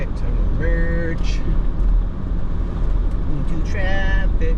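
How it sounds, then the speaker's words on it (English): Road traffic heard from a car merging on a Houston road: a constant low engine and tire rumble, loud and close, with brief voice sounds over it. "I'm gonna merge into traffic"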